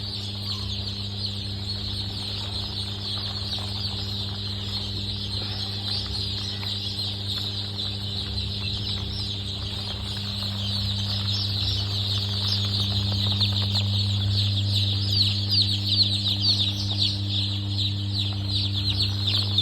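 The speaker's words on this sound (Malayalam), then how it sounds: "ഇത് ടർക്കി കോഴികളാണ്. കളക്കം എന്ന് പറയും ടർക്കി." Turkeys at a hatchery gobble and cluck in a continuous, moderately loud flock chatter over a steady mechanical hum, growing a little louder toward the end.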